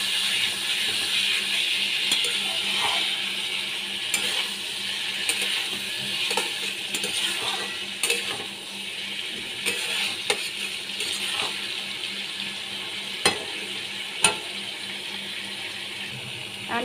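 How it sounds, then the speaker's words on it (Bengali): Prawn curry (chingri malaikari) is mixed in a pan, with a steady moderate sizzle under repeated clicking and scraping stirs and a few sharper knocks against the pan. "ভালো করে আমি মিশিয়ে নিচ্ছি।"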